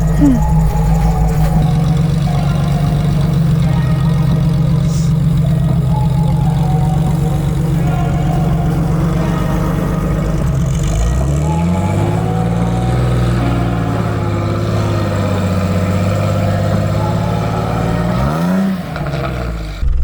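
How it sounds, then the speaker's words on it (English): A loud engine with rod knock runs steadily with a rough, knocking undertone, then the pitch shifts as it revs down and back up. "That's a little bit of a rod knock noise in the engine."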